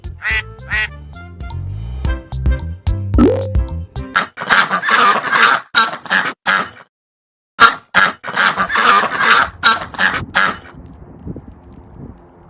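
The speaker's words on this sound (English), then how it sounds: "Duck." Duck quacking on a farm, a fast run of loud, close, raspy quacks in bursts with a short gap midway, after a brief musical lead-in.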